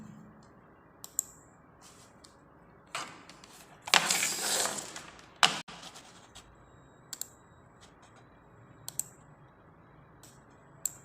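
Sparse mouse clicks on a computer during an online voter card application. Faint, isolated sharp ticks are spaced a second or two apart, with a louder rustling burst in the middle and no talk.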